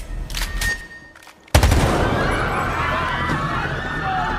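A sudden loud burst of gunfire breaks in after quieter ambient sound, followed by a sustained, dense rattle of noise that continues to the end.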